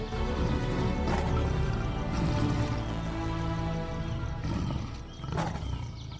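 Lions roar in a wild savanna setting, deep throaty roars with a sustained low rumble throughout, loud and close, with peaks rising near the start and again toward the end.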